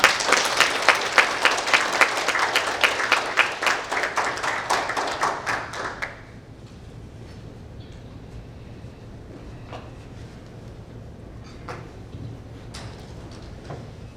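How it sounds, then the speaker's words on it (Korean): Rhythmic, fairly close audience clapping greets a former defense minister arriving at a lecture, with beats in near unison for about six seconds before it stops abruptly, leaving a quiet room with a low hum and occasional knocks and shuffles. "여러분 서욱 교수님, 장관님을 큰 박수로 맞아주시기 바랍니다"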